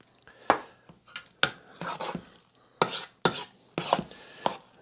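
Cornbread dressing being mixed by hand after pepper and salt go in, a series of irregular, close scraping and thudding stirs in a bowl, with short pauses between strokes.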